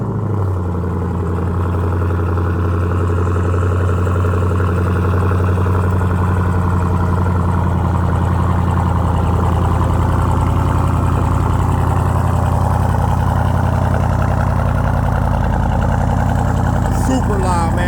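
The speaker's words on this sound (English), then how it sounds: "let's do a cold start on the Durango right quick" A Dodge Durango SRT Hellcat with a HEMI V8 idles loudly and steadily after a cold start, a deep constant rumble held close for the whole stretch with no talk over it.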